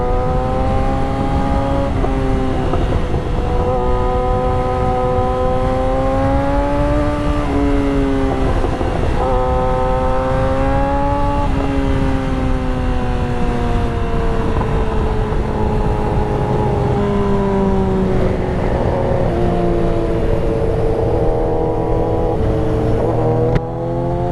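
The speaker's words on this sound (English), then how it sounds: "So you can see Dalton is clearly cruising." A Suzuki GSX-R 1000 motorcycle cruising with a steady, loud engine drone whose pitch rises and falls gently through shifts, heard up close with constant wind rush and no talking.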